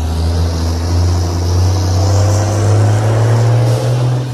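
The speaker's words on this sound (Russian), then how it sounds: "Мусоровоз, на котором написано Уго." A garbage truck rolls past on a city street in Argentina, its steady low engine rumble loud and close, swelling slightly as it goes by with no voices.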